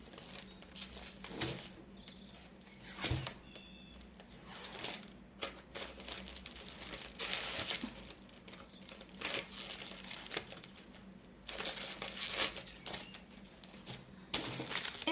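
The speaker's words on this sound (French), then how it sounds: "Et on va venir gratter en sorte comme ça. Toute la longueur de du ruban." Gift ribbon is scraped along its length to curl it, giving quiet, close crinkling and papery scratching strokes in irregular bursts over a faint background, with no talk.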